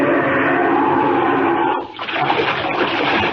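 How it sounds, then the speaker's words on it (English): A radio drama splash effect of someone diving into icy Arctic water, with a steady rush of water, then a sudden break and a churning, lower surge of splashing. "Down, right into the water."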